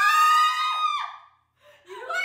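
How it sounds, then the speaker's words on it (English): A person lets out a loud, high-pitched, sustained scream during an at-home haircut. The scream breaks off, and after a brief silence a second, shorter vocal outburst follows. "Why are you screaming?"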